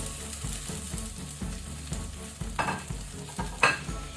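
Onion with curry leaves and ginger frying on low heat in a pan for crab soup, a steady soft sizzle with repeated scraping stirs and a couple of louder clanks near the end.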